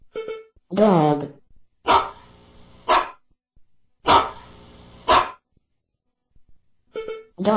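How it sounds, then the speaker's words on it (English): Dog barking in an animal-sounds listening sequence: a short voice is heard first, then loud, close barks come in two spaced pairs separated by silence. "Dog."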